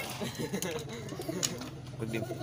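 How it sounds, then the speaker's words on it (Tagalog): Pigeons coo softly in a low, repeated burble while someone talks nearby. "Yan po mga kalapati namin."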